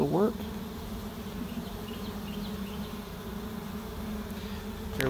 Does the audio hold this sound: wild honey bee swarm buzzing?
yes